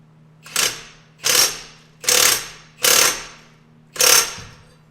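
An impact wrench hammers on the crank pulley bolt of a Porsche 944, five loud, evenly spaced rattling bursts about a second apart, each rising quickly then cutting off, close up with a low hum between.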